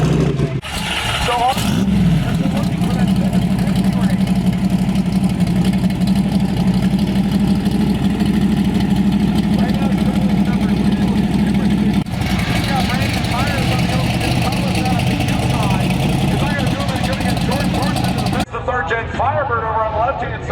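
A Pontiac Firebird drag car idles before a run at a drag racing event, its loud, lumpy engine rumbling steadily and close for the whole stretch, with other engines and a commentator talking over it.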